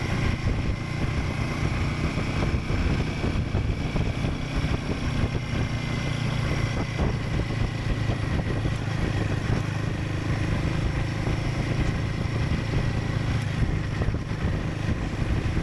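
A Royal Enfield Himalayan 450 motorcycle ridden at about 25 mph over speed humps, a steady loud engine drone with wind rush, heard close and continuous with no talk.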